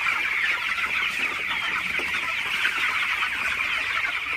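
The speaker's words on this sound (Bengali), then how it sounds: "ব্রয়লার মুরগির সকালবেলায় আসলে মুরগিগুলা কেমন করে" Broiler chickens in a poultry house cluck and chatter as a steady, dense flock in the morning, a continuous close murmur of calls with no pauses and no voices.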